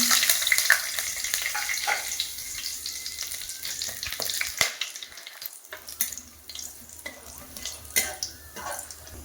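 Garam masala sizzles in hot oil in a wok, a close, steady crackling fry with scattered pops and clinks, and no talking.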